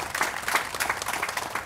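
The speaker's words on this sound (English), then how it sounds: "give them a round of applause, please?" An audience at a Memorial Day observance claps for members of the fire and sheriff's departments, with steady, dense applause from a sizable crowd lasting the whole moment.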